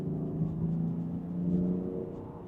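A 2024 Land Rover Defender 110 in transmission sport mode accelerates to pass a slow tractor, its engine rising in a steady, rumbling, whirring note heard from inside the cabin with no talking.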